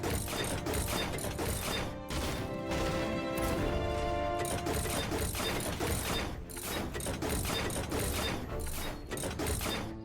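Fortnite Save the World trap placement and building, heard as dense, continuous mechanical clatter, ratcheting clicks and thuds over busy game audio, with no talking.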